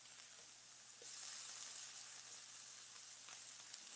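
Meat searing in a hot pan, a faint, even sizzle and hiss that holds steady with a few small crackles, with no talking.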